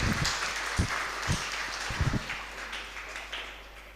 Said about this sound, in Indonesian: Kasih tepuk tangan dulu buat kita semua